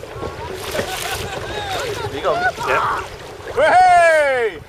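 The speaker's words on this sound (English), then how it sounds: "Gust of wind coming." Wind gusts on board a boat, a broad rushing noise that swells and buffets the microphone, with people talking over it and a loud high call near the end.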